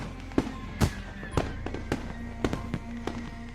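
Fireworks boom in a night-sky scene from the Katawa Shoujo visual novel, with a series of sharp bursts spaced irregularly and followed by crackling over a low steady background.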